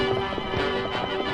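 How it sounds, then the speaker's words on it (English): Hoofbeats of the great horse Silver galloping across the plains, rapid rhythmic thuds in a quick repeating pattern close by, with a steady tone humming underneath. "No hoofs had ever beat the plains like those thundering hoofs of the great horse Silver"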